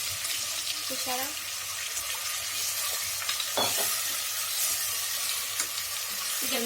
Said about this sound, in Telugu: గట్టిగా ఉంది కాబట్టి కొంచెం వాటర్ వేసుకోవాలి